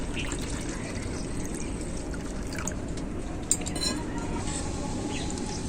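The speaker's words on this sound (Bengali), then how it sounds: "এরপর এটাতে আমি নর্মাল জলই দিয়ে দিচ্ছি।" Plain water poured into mashed roasted mango for aam panna, a continuous soft, close pouring wash with a brief clink partway through.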